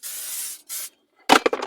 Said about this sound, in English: spray some deodorant just in case I run into someone